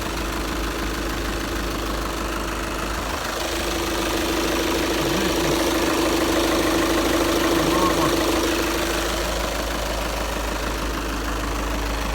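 A VW Touran's engine idles steadily for about twelve seconds, a close, even, rumbling hum with a slight knocking texture, while someone talks quietly over it.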